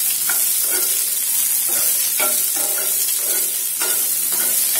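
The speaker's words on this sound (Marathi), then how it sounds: "याला छान तेलावरती परतवून घ्यायचं" Green chillies sauté and sizzle in hot oil for a chilli fry, a loud, steady frying hiss broken by repeated scraping stirs of a spatula in the pan, with no talking.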